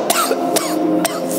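Three sharp coughs, evenly spaced about half a second apart, close and fairly loud with no talking.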